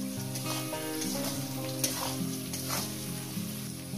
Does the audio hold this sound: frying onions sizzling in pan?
yes